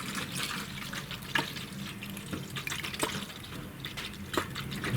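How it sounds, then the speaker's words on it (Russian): Coolant poured into the reservoir of a VAZ 2102 car engine during a rebuild: a steady liquid splash and trickle with a few clunks and taps, close and continuous. "бачок заливай"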